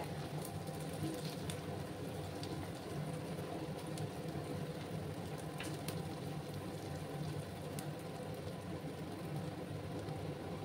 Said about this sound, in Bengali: পেঁয়াজগুলোকে লাল লাল করে একটু ভেজে নিচ্ছে